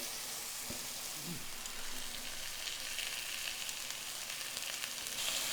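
Thin chicken breasts sizzle and fry steadily in a pan, a continuous close crackle with faint spatters, with no talk over it.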